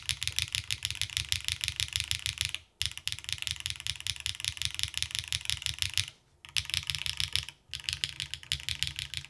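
Rapid clicky keystrokes on an Onibi mechanical keyboard with gasket mount, a dense steady rhythm of close, crisp presses broken by three brief pauses.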